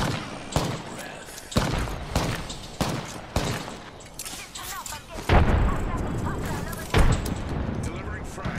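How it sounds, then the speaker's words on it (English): Repeated video game gunfire, sharp shots spaced roughly a second apart over a long stretch, with bursts and heavier thuds, while a player talks throughout. "Shoot at them a couple of times."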